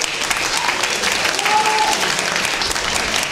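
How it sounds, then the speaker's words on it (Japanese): A crowd at a Shooto mixed martial arts event applauds a knockout win with steady, dense clapping that holds at an even level throughout, mixed with a faint crowd murmur. "大輝ライトニア選手に今一度大きな拍手をお願いいたします"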